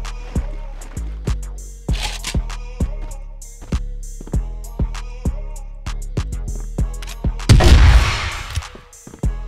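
Rapid, evenly spaced gunshots ring out in a video game, around a dozen sharp cracks in steady rhythm, close and loud, ending in a louder burst of explosive noise near the end.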